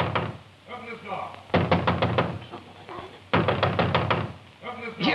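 Heavy fists bang and knock on a locked door in rapid bursts of loud, sharp blows, separated by pauses, with a voice shouting in between.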